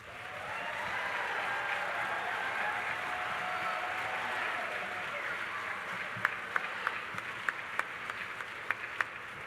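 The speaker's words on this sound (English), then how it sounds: "You can give a round of applause, it's okay." Steady applause from a large commencement audience as bachelor's degree candidates stand at a spring graduation ceremony, broad and sustained across the hall, with a few sharper nearby claps standing out toward the end.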